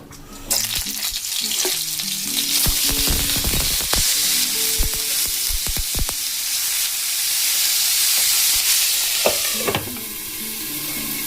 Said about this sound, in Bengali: তেল খুব গরম হয়ে গেছে এখন এবার ফুলকপিগুলোকে আমি দিয়ে দেবো